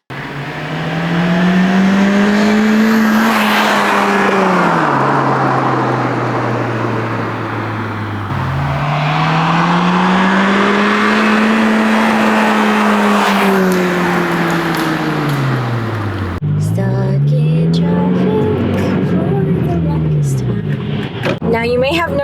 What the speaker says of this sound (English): Sounds like a Fujitsubo Powergetter.